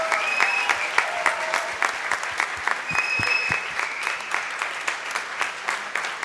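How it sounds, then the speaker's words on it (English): Audience at a valedictory function applauds the home team in a sustained round of clapping with sharp individual claps standing out, moderately loud and unbroken, with a faint tone and murmur behind it. "Can we have a big round of applause for our own home team?"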